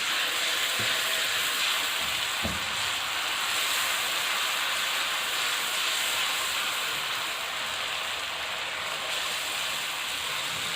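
Ginger garlic paste fries and is stirred in a pan for an aloo keema dish. A steady, loud sizzle runs throughout, with a couple of soft knocks from the spoon.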